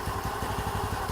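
Honda Elite 150 scooter engine idling low just after coming off the enricher, a steady close pulsing putter with light mechanical clatter.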